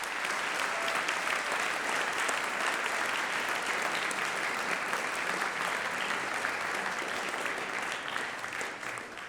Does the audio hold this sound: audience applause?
yes